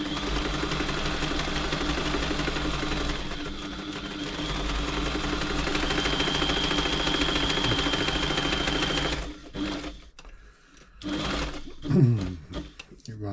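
A New Home 508 sewing machine running a zigzag stitch, a steady close whirring drone for about nine seconds that then stops, followed by quieter handling sounds and talk.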